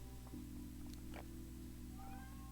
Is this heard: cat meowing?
yes